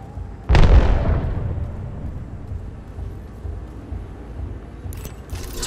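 A sharp electric burst from an Arc Star grenade detonating in Apex Legends, one loud close blast that decays into a fizzing crackle, followed later by brief bright zaps.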